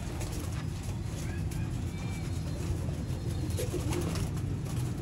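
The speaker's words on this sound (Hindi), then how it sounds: "ये जी दोस्तों आपकी स्क्रीन पे नायाब तरीन लाखे कबूतर हैं" Lakha pigeons, a rare 'brand Lakha' flying breed from Sialkot, cooing softly amid steady low background noise, with faint chirps overhead.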